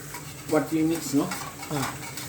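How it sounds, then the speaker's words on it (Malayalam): Vegetables, including onions, deep frying in oil for a Sri Lankan eggplant and coconut milk curry, a moderate sizzle with a few louder bursts and utensil scrapes, a voice faintly in the background. "ഇപ്പോൾ ബാക്കിയുള്ളതെല്ലാം ഡീപ് ഫ്രൈ ചെയ്യുന്നുണ്ട്"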